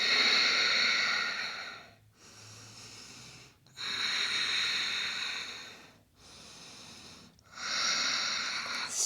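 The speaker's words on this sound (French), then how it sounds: "On prend 3 respirations ici." Slow, deep breaths during a flowing yoga practice, each long airy inhale and exhale drawn close and clear, separated by brief quiet pauses, three cycles in a steady rhythm.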